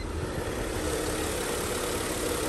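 A wagon car's engine idles steadily up close, a continuous low rumbling purr with no change in pace and no talking.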